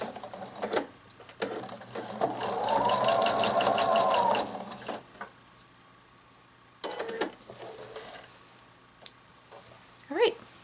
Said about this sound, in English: Turn your fabric again and stitch straight down towards the edge of your fabric